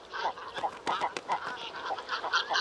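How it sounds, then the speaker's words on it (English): Great cormorants call at a crowded nesting colony, a busy overlapping chorus of harsh croaks, growls and clucks from several birds, fairly near and continuous. "when they congregate on their nesting grounds, a chorus of growls, croaks and clucks shatters the peace."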